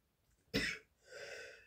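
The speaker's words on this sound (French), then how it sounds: "j'ai une toux depuis quelques jours" A single sharp cough from a woman with a cough of several days, followed by a softer breathy exhalation, close and fairly quiet in a calm room.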